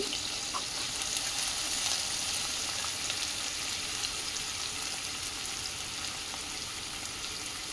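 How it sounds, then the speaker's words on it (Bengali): Ginger paste and tomato splutter and sizzle in a frying pan with a steady, hissing fry that stays even and moderately quiet throughout. "আদাটা ছিটকাচ্ছে।"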